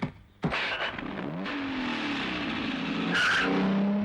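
A car pulls away loudly, its engine rising in a long revving sweep with tyre squeal and skidding noise near the end, all close and continuous with no talk over it.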